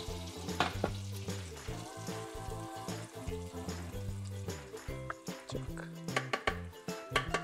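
Baghar of reddened onions in hot oil for nihari sizzles and crackles loudly up close. A spoon clatters against the pot in irregular bursts as it is stirred in.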